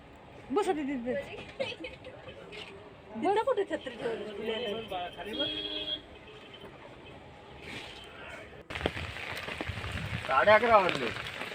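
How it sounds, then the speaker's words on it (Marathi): Rain patters steadily in the background while people talk, the downpour growing louder and more prominent near the end. "आम्ही वडापमधून उतरलो पाऊस लागत होता बऱ्यापैकी"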